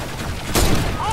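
Brief burst of gunfire during a video game shootout: a single loud cluster of shots over a steady game backdrop, with a voice present.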